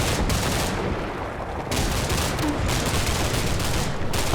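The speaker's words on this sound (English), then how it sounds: "Some more grenades going out." Grenades and small-arms fire crackle through a firefight in the Cold War tactical game Combat Mission: Cold War, a continuous loud roar of shots and bursts with no pauses and no voices.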